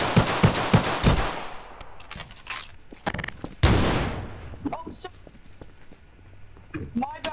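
Gunshots in the roleplay game The Walking Dead RP, a quick run of sharp cracks at the start and a few louder single blasts later, with people talking between and over them.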